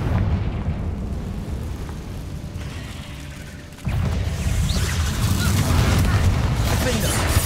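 Confringo fire-spell explosions in Hogwarts Legacy, a dense, continuous roar of blasts and crackling that swells louder midway, with a voice talking over the din.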